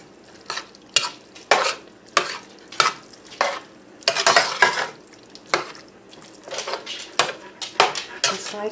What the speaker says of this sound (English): now I'm just going to stir this around and get that cheese evenly distributed.